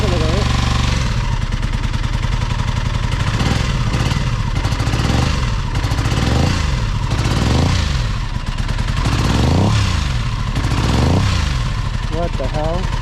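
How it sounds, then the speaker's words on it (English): An Aprilia motorcycle engine runs roughly, kept alive with blips of the throttle, a loud rattling, pulsing idle that surges and dips repeatedly, close up, with a voice talking over it. "Start it, try to let it run. I want to hear it, the engine."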